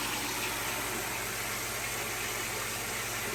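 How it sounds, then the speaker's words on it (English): Steady broadband rushing of running water from a koi pond pump and spray bar, with a low mechanical hum underneath, continuous and unchanging. "it is a bit noisy with the spray bar going"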